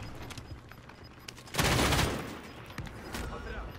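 Rapid bursts of gunfire crackle through a Warzone battle royale fight, with dense shots peaking loudly midway and scattered cracks before and after, while players call out to each other over the shooting.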